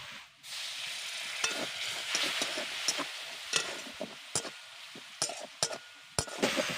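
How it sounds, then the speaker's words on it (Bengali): A little water goes into a sizzling pan of vegetable filling and masala for beet pitha. The hiss swells, then carries on under sharp intermittent clicks and scrapes of stirring, close and moderately loud, with no talking. "এবার অল্প করে জল দিয়ে দেব"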